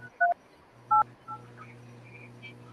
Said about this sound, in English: So let's just give Mr. Ralston a call and see if we can speak to him